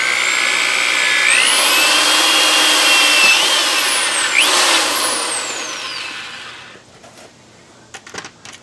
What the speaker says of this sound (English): I'm going to drill right down the middle of it here.